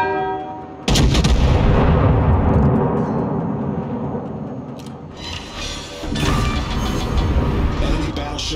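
In World of Warships, the battleship Wyoming fires two heavy artillery salvos: a loud, booming blast that rolls off into a long rumble, then a second roaring volley, with brief game voice lines in between.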